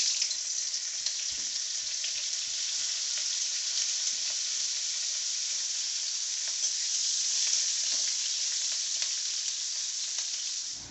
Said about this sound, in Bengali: তেলের মধ্যে দিয়ে দেব ফুলকপিগুলো। এগুলো আমি একটু ভালো করে ভেজে নেব।